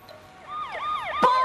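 Fire truck siren in a children's story, wailing up and down in repeated sweeping tones that grow louder as it approaches, ending in a brief sharp burst; no voices.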